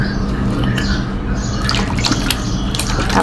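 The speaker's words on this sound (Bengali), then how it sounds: "এখন এখানে আমি অ্যাড করে দিব নরমাল ফ্রিজে রাখা ঠান্ডা পানি।" Cold water from the fridge being poured into bel sharbat, a close, steady splashing trickle with small drips and glugs running the whole time, fairly loud and without speech.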